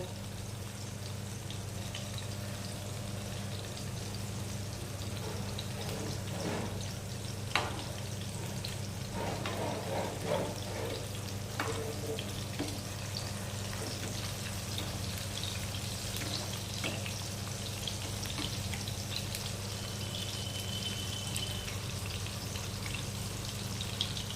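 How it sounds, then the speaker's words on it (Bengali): Pakoras fry in hot oil, a steady, soft sizzle and bubbling with occasional faint pops, close up and continuous with no talking. "এবার আমরা পকোড়াগুলো হালকা লাল করে ভেজে নেব।"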